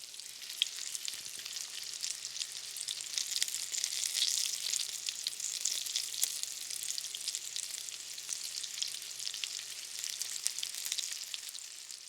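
Squirrel meat fries in hot oil with a steady, busy sizzle and crackle, close and continuous throughout with no voices.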